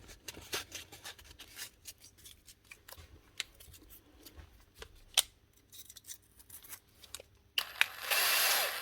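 Sandpaper rubs and scrapes on a part from a broken power tool in quick, uneven strokes, close and fairly quiet, ending in a brief louder hissing burst.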